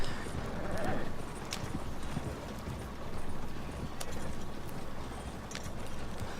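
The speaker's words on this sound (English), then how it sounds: "we're gonna hurry and get the wagon into the barn so that we don't get a investigation from shooting that guy" Horse-drawn wagon clip-clopping in Red Dead Redemption 2, steady hoofbeats close by under a low rumble of wheels, with an occasional whinny and a voice talking over it.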